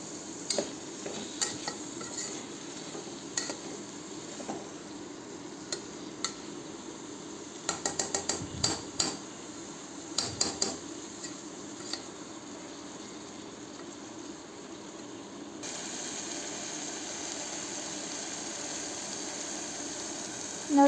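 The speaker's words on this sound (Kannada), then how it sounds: "ಆನಂತರ ಟೊಮೆಟೊನ ಹಾಕ್ಕೊಂಡು ಬಾಡಿಸ್ಕೊಳ್ಬೇಕು, ಅದು ಮೆತ್ತಗಾಗೋವರೆಗೂ." Tomatoes sauté in oil in a pan for masala rice, with a soft steady sizzle under repeated scraping and clinking of a metal spoon against the pan, in bursts and then settling into a quieter fry.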